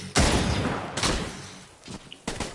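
Gunfire in a video game: a few loud, broadband blasts and short bursts with decaying tails, spaced unevenly across a couple of seconds and heard without talk.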